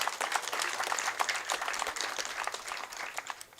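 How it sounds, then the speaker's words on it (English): Audience applause at a political council gathering of FDC Katonga faction members, a dense steady burst of many hands clapping together for several seconds, fairly close and loud with no talk over it. "Give a loud clap, please."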